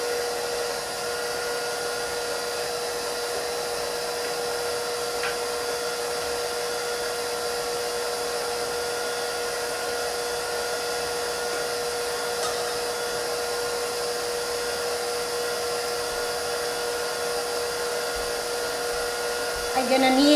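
A stand mixer kneads bread dough for Filipino Spanish bread, its electric motor running in a steady, loud, unbroken whir with a constant tonal hum throughout.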